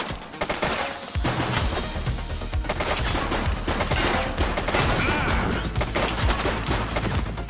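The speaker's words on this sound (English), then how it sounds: "Shots fired!" Rapid automatic gunfire rattles almost without pause in a police shootout in The Precinct, loud and close with thick overlapping shots after a brief quieter opening second.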